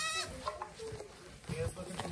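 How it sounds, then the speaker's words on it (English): Goats bleat in a full barn during a winter storm, several short cries scattered over a busy background while people talk nearby. "The full goat herds in here"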